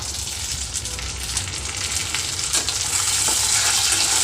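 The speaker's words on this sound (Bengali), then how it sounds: "ভালো করে নেড়ে মিশিয়ে নিব" A small tomato is stirred into onion, garlic and black cumin frying in a pan, producing a steady, fairly loud sizzle with scraping stirs that builds slightly, no voices.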